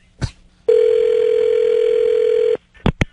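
A telephone dial tone begins a prank phone call, a steady hum lasting about two seconds, bracketed by short clicks and handset noises.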